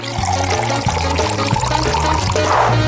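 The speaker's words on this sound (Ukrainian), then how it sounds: "Далі беремо фанту. Та Наливаємо всередину." Fanta soda pours steadily into a glass, a continuous splashing gush with a rising fill sound toward the end.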